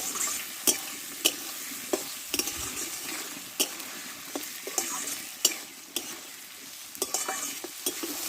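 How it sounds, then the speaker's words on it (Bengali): Tomato and ginger-garlic paste being fried and stirred in a pan while making Bengali-style ghugni, with a continuous sizzle under frequent scraping and clinking spoon strokes against the pan, close and steady, with no talk. "দেখো টমেটো আদা রসুনটা ভালোভাবে আমি কষে নিয়েছি"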